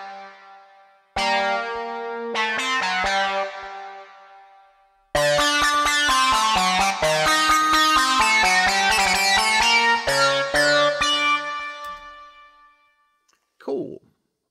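A bright polysynth lead with hard sync in Logic Pro X plays a melodic phrase, pauses, then returns with rapid, punchy, compressed notes washed in reverb and delay before trailing off.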